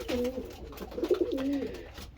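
Racing pigeon, a section-winning young bird from 2022, cooing close up in a loft, with several rolling, throaty coos in a row.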